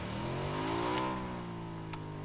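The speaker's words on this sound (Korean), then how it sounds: "오토바이 타고 갑시다" A motorcycle engine revs in the video game PUBG, its pitch climbing then settling into a steady mid-range drone, fairly close and alone.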